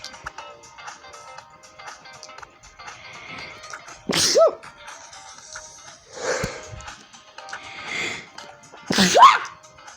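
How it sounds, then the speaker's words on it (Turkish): Two sharp sneezes about five seconds apart, close and loud, with quieter rustling and breathy sounds in between. "Bari hapşırdım ya."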